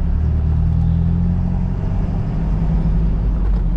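A Ford F-250 4x4 truck with a chipped 300 hp engine and straight exhaust accelerates hard, a loud, continuous low engine rumble heard close from inside the cab.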